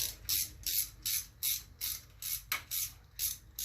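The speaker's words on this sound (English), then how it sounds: "we're just going to use a ratchet, make it a little bit quicker" A ratchet tightens a tensioner bolt on a Quad 4 engine's timing chain housing, with about nine quick bursts of clicking in a steady rhythm. The sound is close and fairly quiet, with no talking.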